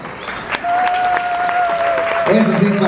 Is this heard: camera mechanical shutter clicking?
no